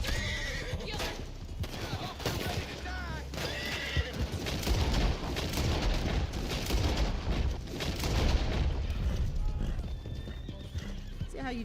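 Luna, a female horse in Red Dead Online, gallops with loud clip-clopping hooves and lets out several shrill whinnies and neighs, while bursts of gunfire crackle in the background and a voice talks intermittently.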